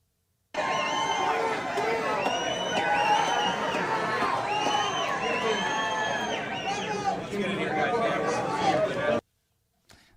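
A large crowd at a game reacts to President Trump's appearance with a loud, continuous roar of cheering, shouting and babbling voices that holds steady for about nine seconds before cutting off abruptly.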